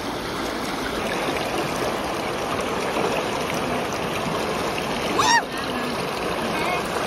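Toy horses wading and swimming across a river, with continuous rushing, splashing water filling the scene, a short sharp splash and squeak near the end.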